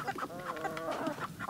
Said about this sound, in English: is our one barred rooster that we know for sure